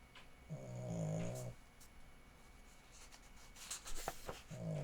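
Someone's soft little snores, two slow, low rasping breaths rising and falling in the background with a quiet pause between them, no talking over them.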